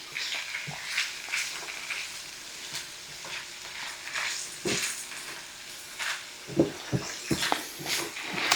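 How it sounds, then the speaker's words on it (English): Very small diced potatoes sauté in a pan for Southern-style Mexican picadillo, hissing and sizzling steadily while they are stirred, with scattered clicks and scrapes through the whole stretch. "the recipe actually says to let them saute like this for a few minutes and sort of get soft before you add the other ingredients"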